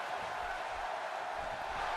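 Steady crowd roar from a WWE 2K17 wrestling match in universe mode, a dense continuous wash of arena cheering at moderate level with no clear peaks.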